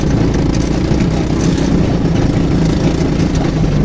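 A Kimroad 250cc quad's cold engine idling after sitting unused for three years, a loud, close, steady low rumble with an even, continuous pulse and no talking.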